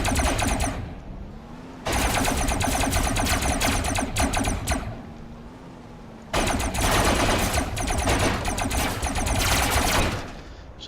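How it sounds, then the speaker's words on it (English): In the robot-building game Robocraft, turrets fire at robots in rapid automatic bursts: two long, loud, dense volleys of rattling shots separated by a quieter gap, with a brief burst at the start and no talking. "most of the good shots that are hitting here are from the middle set of turrets"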